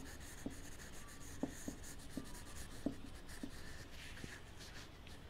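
Pen or pencil writing on paper while solving an economics birth-rate problem, with soft scratchy strokes and a few light taps, close and quiet, no talking.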